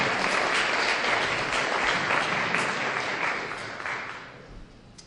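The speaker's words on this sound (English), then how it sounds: "let's give a little round of applause for him" Sustained round of applause from an audience at a community fluoridation forum in Lethbridge, Alberta, dense steady clapping that tapers off toward the end.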